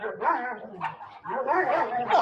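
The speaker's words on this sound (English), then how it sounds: "that's a whole clan of dogs around here" A pack of dogs nearby barks and yips continuously in overlapping, loud bursts with whining tones, several animals at once and no talk over them.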